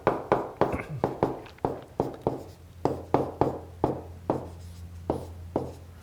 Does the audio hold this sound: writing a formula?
yes